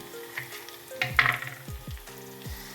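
Onion frying in a pan for a drumstick curry, with a sizzle under clattering stirring and scraping strokes. A louder burst comes near the middle, and no one speaks.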